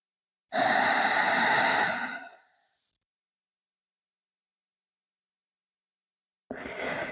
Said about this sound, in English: Finding long inhales and exhales through the nose.